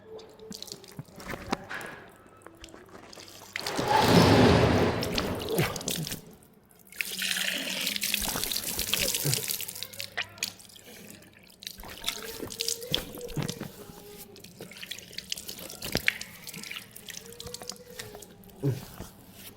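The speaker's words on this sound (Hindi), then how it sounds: "पानी बह जाए ये चेहरा धुल जाएगा" Tap water splashing and dripping while the face is washed during wudu, ablution before Islamic prayer, with a loud burst of running water early on, then softer trickles and drips.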